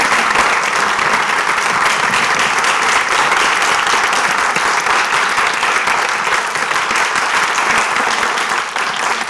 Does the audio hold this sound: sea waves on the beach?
no